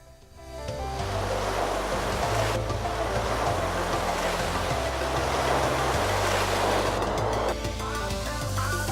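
Ocean surf at Bentota beach in Sri Lanka rolls in as a broad, steady wash of breaking waves that swells up after a quiet start and holds loud, with a tonal layer underneath.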